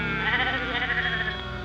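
Sheep bleat in a wavering, drawn-out cry, a single quavering call that holds for over a second at moderate volume.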